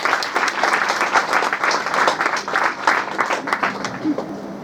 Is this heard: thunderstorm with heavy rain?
no